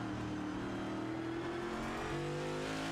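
Onboard engine note from a race car in the HTL Cup Series at Sebring, a steady high-revving drone held near and loud, pitch climbing slightly as the car pulls through a gear.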